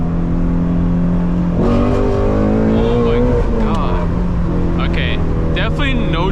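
A Shelby GT350 accelerates hard at night without traction, its engine note surging and climbing loudly from inside the car while people talk over it.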